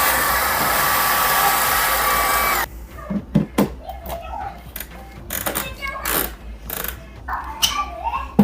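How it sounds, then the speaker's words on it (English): A household vacuum suctions leftover coffee beans out of a Lavazza espresso grinder, a loud steady whooshing roar that cuts off abruptly partway, followed by scattered clicks and handling clatter. "get yourself out your vacuum and just suck the beans out of there"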